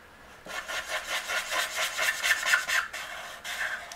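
Alcohol markers squeak and rub against paper while colouring, a close, scratchy, chalkboard-like squealing in quick successive strokes with no talk.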